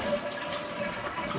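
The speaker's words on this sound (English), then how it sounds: "once you remove this flap, you're going to start seeing the water drain" Water draining from a leaking toilet tank after the flapper is removed, a brief, steady gurgling rush close by.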